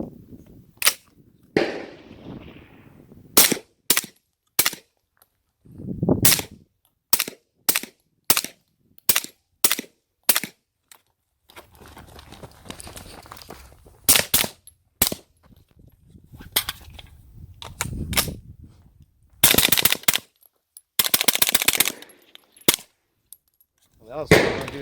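An Extar EP45 pistol fires during a burn-in test, giving sharp, loud gunshots in quick strings and scattered single shots with short gaps between them, close by, with some rattling handling noise between bursts.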